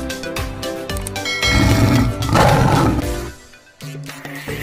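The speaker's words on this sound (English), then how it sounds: "lion." A lion roars loudly and close, a deep rumbling roar that swells and fades over several seconds, with no talk.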